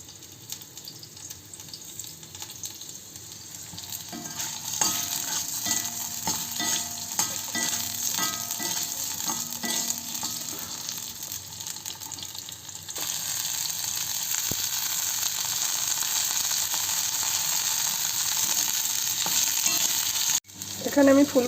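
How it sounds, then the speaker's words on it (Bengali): Cauliflower florets and potato pieces sizzle steadily in a pan of hot oil for a home-cooked dry curry, with a continuous close frying hiss and some scraping stirs early on, and no talking. "এখানে আমি ফুলকপি আর আলুটা ভাজতে দিয়ে দিয়েছি, অল্প একটু একটু করে ভাজা হচ্ছে।"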